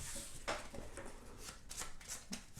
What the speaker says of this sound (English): Shuffle the AI deck one more time.